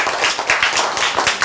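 A church audience claps in a brisk, roughly regular rhythm of sharp individual claps, close and fairly loud, several beats per second across the moment.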